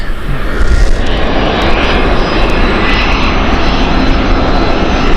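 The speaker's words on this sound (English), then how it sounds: "We've got an EasyJet on final as well, just behind us" An EasyJet airliner inbound from Madrid on final approach to Gatwick roars loud and close, a dense continuous engine rush with whining tones layered over it, no voices.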